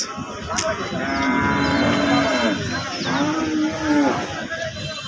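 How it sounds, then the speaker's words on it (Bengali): Large Sahiwal-Friesian cross cows on a farm, low drawn-out moos close by, one long call then further lowing overlapping in a steady barn background. "বিশাল গরু, এক একটা বিশাল গরু"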